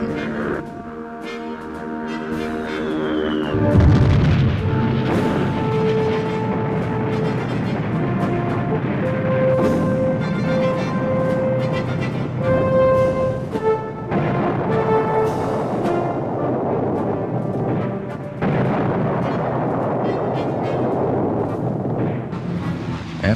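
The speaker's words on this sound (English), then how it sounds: "Air defenses were weak, open to enemy dive bombing and strafing." World War II dive-bombing attacks strike Allied airfields, with loud, dense rumbling blasts and booming explosions. Whining tonal layers and a continuous roar run throughout the stretch.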